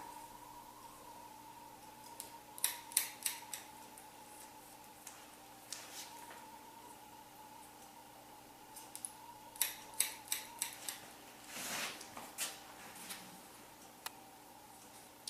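Scissors snipping through hair during a short wispy haircut with blunt bangs, a series of soft close crisp clicks in small bursts over a faint steady background hum.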